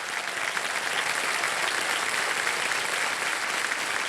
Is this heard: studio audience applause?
yes